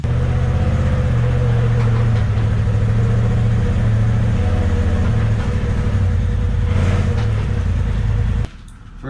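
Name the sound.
new 2021 side-by-side UTV engine running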